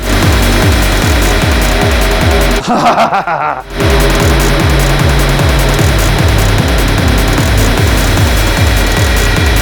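A dense, loud synth texture from an Eventide Misha with a Mimeophone, turned into a pad, with a steady pulsing low beat, a brief filtered swell around the third second, then the wide sustained pad carries on.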